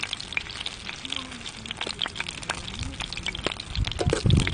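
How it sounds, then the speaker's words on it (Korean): Egg-battered pond smelt frying in oil at a frozen riverside winter campsite, a steady crackling sizzle with scattered pops that swells louder near the end, with faint voices in the background. "빙어 튀김. 어제는 생으로 튀겼고, 오늘은 계란옷을 입혀서 튀기는 겁니다."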